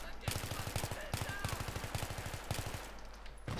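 Automatic weapon fire rattles in rapid, repeated bursts during a Battlefield 3 match, sharp and fairly faint, with brief gaps between volleys.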